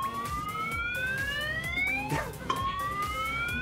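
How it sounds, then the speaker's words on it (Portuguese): A rising electronic siren tone sweeps upward repeatedly with harmonics, cut and restarted near the middle, heard over steady background noise at a festival setting. "Quando a sirene tá girando aí"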